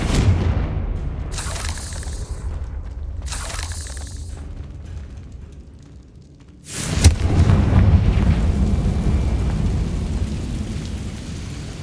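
A Confringo blasting spell goes off in a Harry Potter video game, two muffled booms followed by one loud, sharp explosion that leaves a long rumbling, crackling tail.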